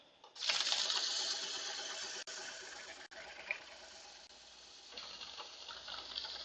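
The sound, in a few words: rotary sander, 180 grit, about 500 speed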